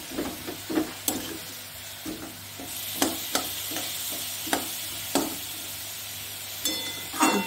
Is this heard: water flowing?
no